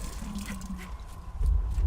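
A tap in the Valiant Hearts video game runs water in a steady stream, growing louder and fuller toward the end over a low background hum.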